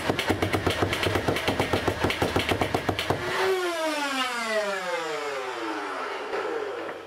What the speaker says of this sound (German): wir testen mal die modifizierte Nemesis mit 3S-Akku und den normalen Flywheel-Motoren und den normalen Pusher-Motor auf die Dauerfeuergeschwindigkeit